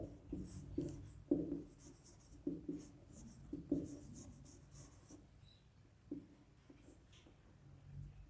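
Chalk taps and scrapes on a board during a physics lecture, coming in short soft bursts of strokes with pauses between them, quiet and close, beneath a faint speaking voice.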